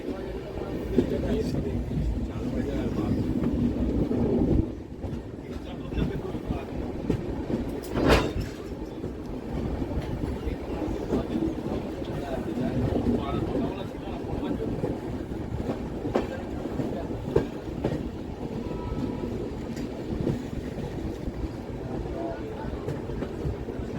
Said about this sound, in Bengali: দার্জিলিং মেল ঢুকছে বিহার রাজ্যের কিষানগঞ্জ স্টেশনে